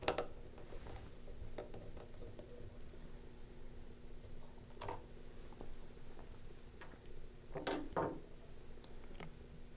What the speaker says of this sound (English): Remove the battery cover on the back of the instrument with a Phillips screwdriver.